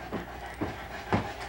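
A dog pants close by in quick, breathy rasps, three or four audible puffs over a soft background hiss, with no voices heard.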